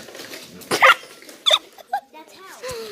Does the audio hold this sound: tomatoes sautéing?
no